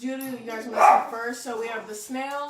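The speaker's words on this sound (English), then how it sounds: "you can hear my dogs barking" Several dogs barking indoors, sharp repeated barks and yips breaking out intermittently over someone talking steadily to a group about drawings.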